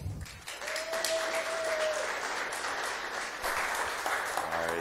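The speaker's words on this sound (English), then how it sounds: "Let's give him a little round of applause." A conference audience applauds a speaker, with steady clapping from a seated crowd that fills the room for several seconds and a brief tone near the start.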